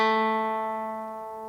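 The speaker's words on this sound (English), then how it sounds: "So when I play a string, gradually gets quieter and quieter until you can't even hear it" A single plucked guitar string rings out as one clear, sustained note and fades steadily quieter on its own, with no talk over it.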